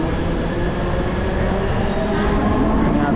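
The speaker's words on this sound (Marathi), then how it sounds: "आणि आता आमची ट्रेन सुटली आहे पनवेलसाठी।" A train at Goregaon railway station, bound for Panvel, gives a steady loud rumble and rolling rail noise throughout, with no distinct horn or announcement standing out.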